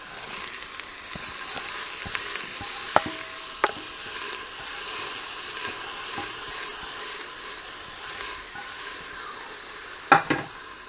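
Onions and beef brown in an Instant Pot with a low, steady sizzle, broken by a few sharp clicks and scrapes of a utensil against the pot, close and fairly quiet.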